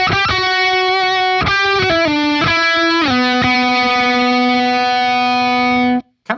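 A distorted electric guitar plays a short phrase of picked notes with gliding slides between pitches, ending on a long sustained note that cuts off.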